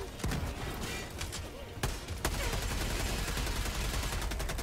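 Dense automatic gunfire from the video game Helldivers 2 rattles on continuously, with sharp louder cracks near the two-second mark amid a chaotic battle din.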